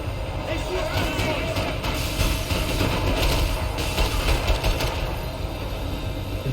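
A tram in the video game Max Payne 3 rumbles along in a loud, continuous rail clatter with a heavy low drone and scattered metallic rattles throughout.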